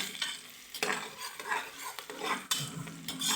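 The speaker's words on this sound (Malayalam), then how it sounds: "കറുവപ്പട്ട, ഏലക്കായ്, പട്ട, ഗ്രാമ്പു എല്ലാം നമുക്ക് ഇടാം. ഇളക്കി കൊടുക്കാം." Whole cinnamon, cardamom and cloves are stirred in a frying pan, with a soft sizzle under repeated scraping and clinking strokes of a utensil against the pan.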